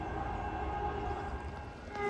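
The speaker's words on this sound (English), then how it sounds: "There it goes, folks. This train is going to San Francisco." Caltrain train 304 pulls away from Menlo Park station in California on a hot Friday, a steady, close, loud rumble of rail movement that holds level for the whole stretch with no voices.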